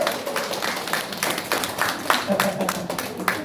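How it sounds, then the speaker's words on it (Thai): A crowd claps steadily for a few seconds, a dense patter of applause with voices mixed in. "เอาปรบมือเลย"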